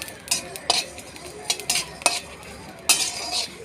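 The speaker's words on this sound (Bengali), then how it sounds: "একটু হালকা করে ভেজে নেব, না তো গুঁড়ো করতে অসুবিধা হবে।" Whole spices dry-roasting in a pan for chalta chutney, a spoon stirring and scraping in repeated short bursts, close and fairly clear with a faint background hiss, no talking.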